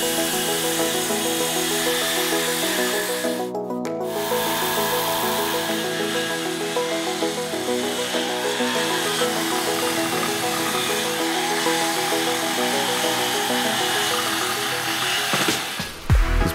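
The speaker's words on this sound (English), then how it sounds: "marked out the rough shape of the keel timber and started cutting" A power tool cuts continuously into a big wooden keel timber for a boatbuilding job, a loud sustained whine and grind with a brief drop near the start and a clunk at the end, with no voices.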